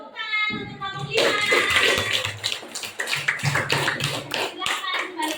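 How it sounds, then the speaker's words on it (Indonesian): A group of people in an Indonesian classroom workshop claps together in a loud burst of applause, starting about a second in and continuing with children's voices talking underneath. "Tepuk tangan untuk kelompok 5."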